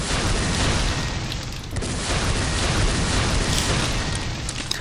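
Fragmentation grenades fired in the video game Planetside, making a dense, continuous rumble of booming blasts with a brief dip partway through.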